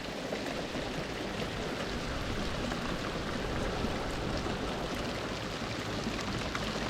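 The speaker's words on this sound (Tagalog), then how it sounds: "Lakas na ng ulan mga katangay." Heavy rain falling steadily at sea during a fishing trip, a constant dense hiss of drops with no pauses or voices, fairly faint overall.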